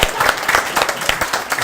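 Wedding guests give a lively round of applause for the bridesmaids, ushers and best man, with sharp individual claps standing out in a close, dense burst.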